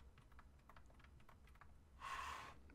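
Quick clicks of the D-pad on an Xbox Series X controller, a scatter of faint, close, short ticks followed by a brief louder rustling burst, with no voices.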